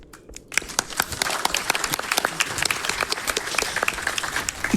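Audience applause and clapping from a crowd at a Games Done Quick speedrun event for Halo: Combat Evolved, a dense, sustained burst of many hands that starts abruptly and keeps going steadily.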